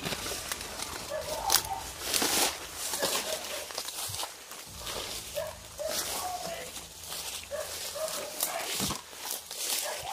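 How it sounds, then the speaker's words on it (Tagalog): Several dogs barking at hikers on a foot trail. Intermittent barks at mid distance mix with footsteps, rustling and people talking. "Pagkaraming aso dito, Brad."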